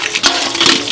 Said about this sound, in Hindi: लाओ हम पानी चला दै छी